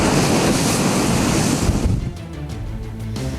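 Sea waves crash onto the shore in a loud, continuous roar of surf that thins slightly partway through, with wind noise and no voices.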